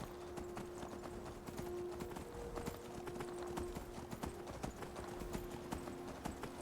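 Horse hooves clip-clop at a fast, steady gallop in the video game Skyrim, with the rhythmic beats running throughout under a low ambient hum.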